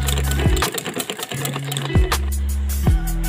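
An electric sewing machine runs loud and close with a steady motor hum and rapid needle clatter, slowing and speeding through sharp pitch sweeps as it stops and restarts, with no talk.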